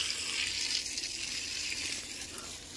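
Water gushes steadily from a tap that cannot be turned off, a continuous close hissing flow with no voices over it.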